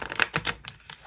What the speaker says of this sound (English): It's shuffling pretty well.